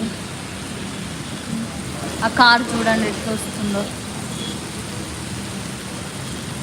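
Heavy rain pours steadily over a traffic-jammed flyover road in Hyderabad, a continuous wash of noise with a short burst of someone talking in the middle.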